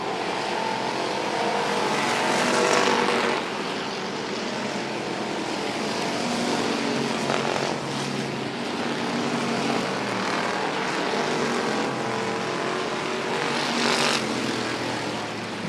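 Dirt track race cars roar around the oval at Boothill Speedway during the Louisiana Dirt Track State Championship, a continuous loud blend of engines with rising and falling passes.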